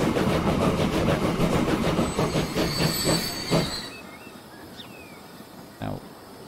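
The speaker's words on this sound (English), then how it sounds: "we are going to have to wait for this train to get out of the way." A train rolls past in a railway-building video game set on a Jamaican mountain line, with a loud rhythmic clatter of wheels and some squealing that fades out, followed by quieter ambience and a brief thump.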